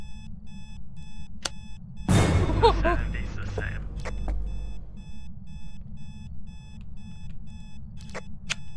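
Phasmophobia alarm clock beeping in a steady high repeating pattern, interrupted by a loud rushing burst and muffled thuds, while a person talks briefly over it.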